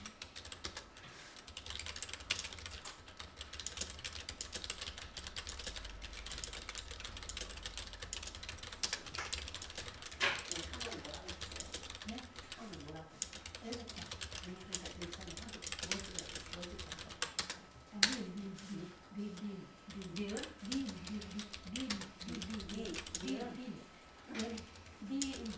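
Rapid computer keyboard typing clatters through a tutorial on drawing with a capture tool and Paint, with keys tapped in irregular bursts under ongoing talk for most of the stretch.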